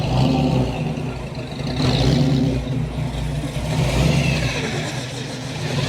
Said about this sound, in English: you can always hear a cool engine in the background